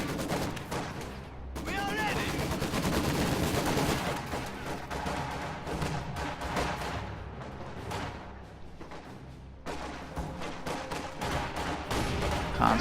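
Rapid gunfire and sniper shots crackle through a Company of Heroes 2 match with Soviet conscripts against German Grenadiers, a steady, dense battle din of bursts and explosions running throughout, with a commentator's voice under it.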